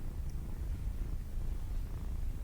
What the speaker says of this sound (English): I continued to pet the kitten.